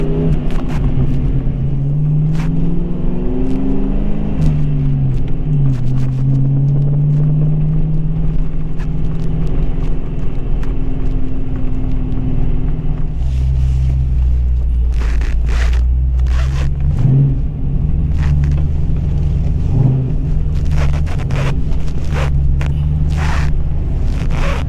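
A 1994 Ford Mustang GT driven at low speed, its V8 exhaust rumbling loud and close with deep throaty drone, shifting pitch as it accelerates and settles, burbles and crackles in the second half.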